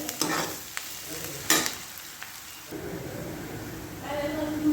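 Onions frying in a pan for a zucchini-style vegetable curry, a steady sizzle with scraping stir strokes and a sharp clatter near the middle, close and moderately loud, with no talk.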